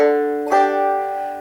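A single eighth-note banjo pinch, two strings plucked together, rings out clearly and decays over an existing sustained chord.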